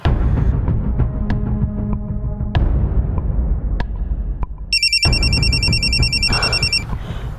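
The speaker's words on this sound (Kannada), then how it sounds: "ಅಮ್ಮವ್ರು ಫೋನ್ ಮಾಡ್ತಿದ್ದಾರೆ." A telephone rings in a Kannada TV serial scene, its repeated electronic ringtone starting midway and sounding loud and close over a dense music and ambience bed.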